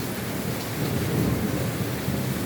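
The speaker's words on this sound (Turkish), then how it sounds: "tamamen yağmur balkona kadar vuruyor arkadaşlar" Heavy rain pours steadily, hitting a balcony, while a low thunder rumble rolls underneath, swelling slightly midway.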